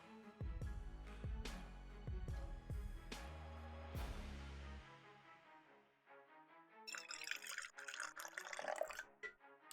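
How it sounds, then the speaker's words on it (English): A few clinks and knocks of a cup come first, then coffee is poured, a soft gurgling stream of liquid that runs for several seconds, quiet and close. "Now I need to pour some coffee."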